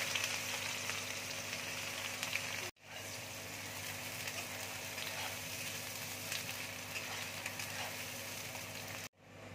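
Onions hit hot ghee already holding black cardamom and cloves, giving a steady, loud sizzle and crackle close by. The frying runs without pause apart from two brief cuts to silence.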